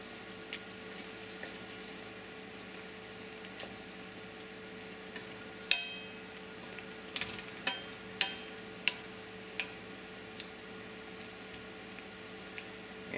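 Sliced scallions stirred quickly in a frying pan while canned tuna sarciado cooks, a faint steady sizzle broken by scattered soft clicks and scrapes of a utensil against the pan.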